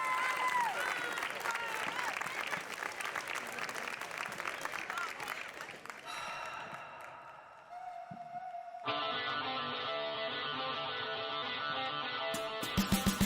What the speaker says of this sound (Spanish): Forte aplauso para Manuel.